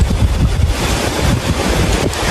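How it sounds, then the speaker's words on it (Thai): Strong gusting wind roars through a forest at night, buffeting the microphone with loud, continuous rushing noise and low rumbling bursts. "ลมแรงขึ้นมาเลย พี่ นู่น มีลมกระโชกด้วย"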